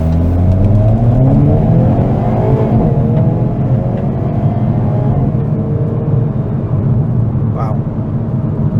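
A 2022 Hyundai Kona N, a 286 hp performance subcompact SUV, pulls away hard from a full stop, its engine note rising in a steady drone heard from inside the cabin, with a voice talking over it.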